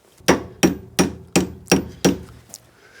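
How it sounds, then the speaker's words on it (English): Long bridge hammer striking a ball joint on a Peugeot 406, five sharp metallic blows in a steady rhythm followed by a lighter sixth tap, loud and close with no talking. "Ah, the long bridge hammer came out."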